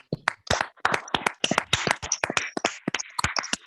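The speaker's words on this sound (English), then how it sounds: "A round of applause once again for this glorious team." Audience at a Toastmasters meeting applauding: a short round of close, uneven hand claps from a small group, sharp and irregular, with no voices.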